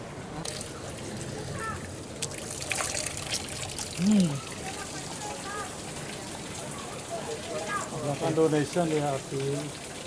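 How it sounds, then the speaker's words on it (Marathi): Holy spring water at a Bali temple, a steady trickling and splashing flow heard at moderate distance beneath people talking nearby. "ती स्प्रिंग वॉटर आहे"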